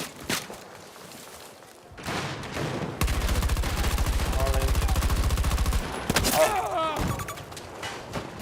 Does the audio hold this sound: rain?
no